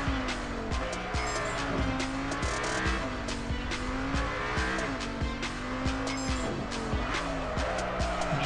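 A car drifting in the mobile racing game Deriva Max Pro, tires squealing in long wavering sweeps over a steady engine drone, loud and continuous with repeated rhythmic clicks throughout.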